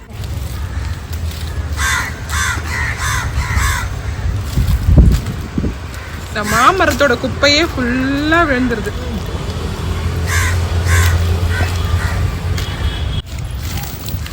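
Several crow caws ring out in harsh bursts mid-clip, with people talking over steady outdoor background noise.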